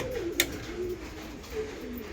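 Giribaz pigeons cooing in a breeding loft, with soft low coos rising and falling near the microphone and one brief sharp click partway through.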